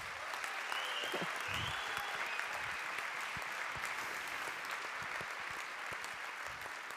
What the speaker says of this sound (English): So please, a warm applause for them as well.